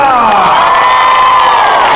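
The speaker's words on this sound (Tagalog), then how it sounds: "Pinakamalakas sa palakpak!" Loud crowd cheering and whooping at a Filipino community gathering in Hong Kong, a dense sustained roar of many voices filling the whole stretch without a break.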